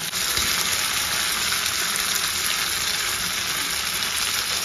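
Fried mushrooms hit a hot pan and sizzle loudly and steadily, a dense, even hiss running throughout with no voices over it.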